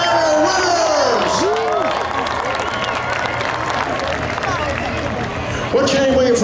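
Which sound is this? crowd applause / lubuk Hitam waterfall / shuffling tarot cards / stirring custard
crowd applause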